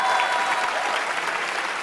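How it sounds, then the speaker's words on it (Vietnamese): A studio audience at a Vietnamese game show breaks into dense, sustained applause, loud and even throughout. "Và một tràng pháo tay chúc mừng cho đội Màu Vàng chiến thắng."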